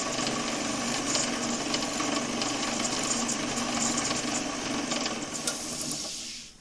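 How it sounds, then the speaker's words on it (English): Bowl gouge scraping wood on a lathe, a steady, dense scraping whir that runs continuously for several seconds before stopping abruptly at the end. "let me do a little bit of scraping right here with my bowl gouge just to blend that ridge in"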